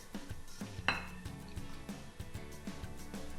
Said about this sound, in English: I'll stir with a spoon here